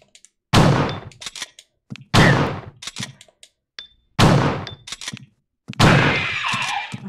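Four loud shotgun blasts fire in a slow, evenly spaced sequence in the video game Resident Evil Director's Cut, each boom trailing off before the next, with a longer rumbling tail on the last.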